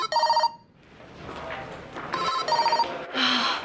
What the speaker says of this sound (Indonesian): Apain Jody telepon aku lagi